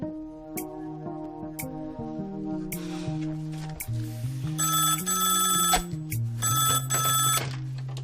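A telephone rings on an outgoing call in repeated bursts of bright ringing, mixed with a sustained tonal music bed and heard fairly close with no voices.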